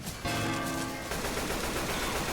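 Gunfire from Left 4 Dead 2 during a gas-can filling match: a dense, continuous burst of rapid automatic shots, loud and close, that keeps rattling without a break.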